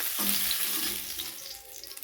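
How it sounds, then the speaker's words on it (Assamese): Fish frying in hot oil for a mustard fish recipe, a dense close sizzle that crackles loudly at first and gradually settles toward the end. "মোৰ ফ্ৰাই হৈ গৈছে, মাছ ফ্ৰাই কৰি হৈয়ে গ'ল"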